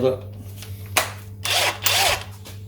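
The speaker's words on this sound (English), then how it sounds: "Then we get the Mega Blaster" A Mega Blaster power tool undoes crankcase bolts on a Triumph Trident T150V engine during a rebuild, giving bursts of whirring drill-like rattle between pauses, close and loud, with faint talk in the background.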